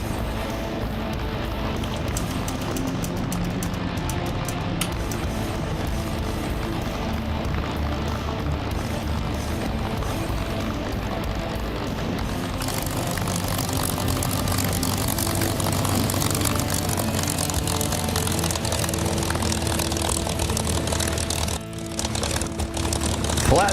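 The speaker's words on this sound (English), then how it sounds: "we'll take off and then we'll immediately turn around" Piston propeller airplane taking off, a loud, steady engine and prop drone running throughout at close range, rising slightly in intensity before briefly dipping near the end.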